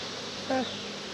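Bees buzzing close by during beekeeping, a soft continuous drone that swells briefly in the middle of the short stretch.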